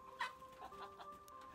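A brooding hen on a farm gives a few soft, low clucks, quiet and close against faint background hum, with no talking.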